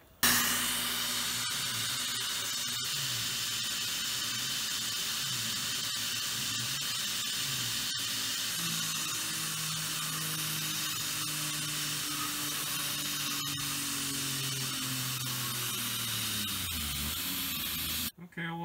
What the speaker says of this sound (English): mill out the big pocket in the middle here. I'm going to be doing that with 3/8, a 3-flute carbide end mill